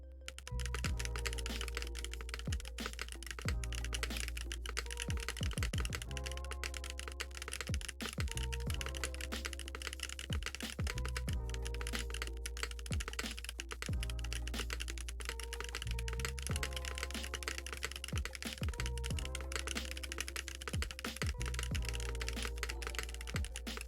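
Steady, fairly fast typing on a KBD8x MKII keyboard fitted with Boba U4T tactile switches, dense close keystroke clacks with occasional heavier spacebar thuds, continuing for the whole stretch with a low hum underneath.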